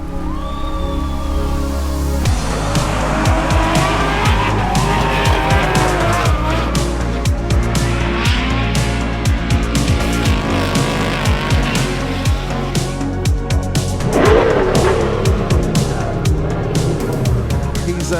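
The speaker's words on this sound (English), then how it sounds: "he's moved to a 6-rotor FD-RX-7, and this thing here screams like a V10 Formula 1 car of yesteryear" A six-rotor Mazda FD RX-7 drift car screams at high revs, loud and continuous, with tire squeal and skidding throughout and a crowd audible beneath the engine noise at an outdoor drift event in New Zealand.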